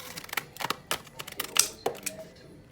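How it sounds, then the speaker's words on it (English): Scissors or a blade cutting through dried craft material at close range, a run of sharp crisp snips and clicks in an uneven rhythm, with no voices. "now I can go like this and just cut it"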